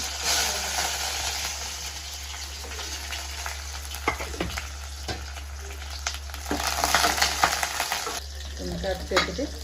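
Garlic fries in a pan with chickpeas, giving a loud, steady sizzle broken by scraping stirs, and it swells louder toward the end with no voices.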